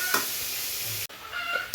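Cut potatoes fry in a pan for a fish curry, a steady close sizzle with a brief scrape and clatter as they are moved midway, no talking.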